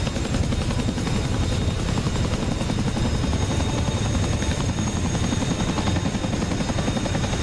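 Chinook helicopter flying, a steady loud rotor thrum and engine roar that holds constant throughout with no voices.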